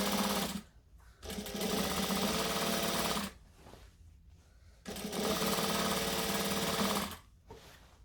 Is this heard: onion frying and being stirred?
no